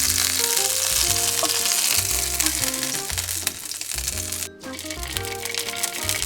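Chickpeas sizzle and crackle in a pan with smoked paprika, a bright continuous frying hiss running under prominent background music with a steady beat.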